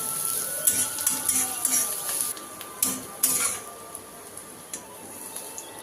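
Onions fry and sizzle in a pan while a utensil stirs and scrapes, with irregular clinks and scrapes over a steady close hiss.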